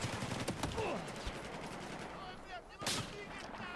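Rapid gunfire bursts in Battlefield 4, a continuous dense clatter of shots through the whole stretch, with a sharp loud crack near the end and no talking.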